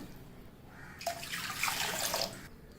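About two cups of water pour into a cooker vessel or kadai for a poha pappad batter, a steady splashing gush lasting roughly a second and a half, close and fairly loud.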